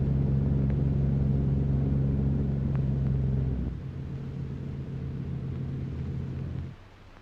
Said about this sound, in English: Why, I hardly touched the brakes.